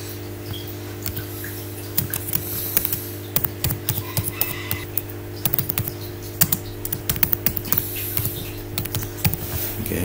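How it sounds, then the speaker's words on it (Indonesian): Someone types on a computer keyboard in irregular bursts of clicky keystrokes over a steady electrical hum, with nearby, moderately loud taps continuing for about ten seconds. "Kita akan ketikkan, sama seperti kita mengetik di Word"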